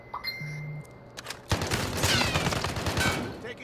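Gunfire in Call of Duty: Modern Warfare breaks out as a dense burst of rapid shots after a quieter opening, sustained and loud for about two seconds before tapering off.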